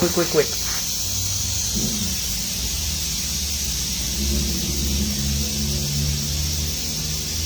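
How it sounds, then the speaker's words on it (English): Steam hisses steadily out of a pressure cooker holding beef curry, a loud continuous spray-like hiss after a brief clatter at the start, while someone talks over it. "Let that steam out."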